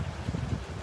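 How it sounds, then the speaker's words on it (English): Gusty wind buffets the microphone on a beach fishing pier on a Sunday morning, a steady low rumble with uneven surges, close and fairly loud, no voices. "Really windy out there"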